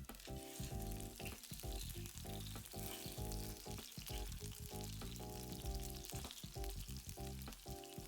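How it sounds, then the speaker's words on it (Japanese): Shrimp shallow-fry in oil over medium heat, giving a dense, continuous crackling sizzle with bright popping, heard close and steady with no voices. "油の音。"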